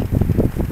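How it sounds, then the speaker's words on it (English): Strong wind outdoors on a long countryside walk near a village, a low, gusty buffeting roar on the microphone that pulses in short surges, close and loud, with no voice. "It's super windy,"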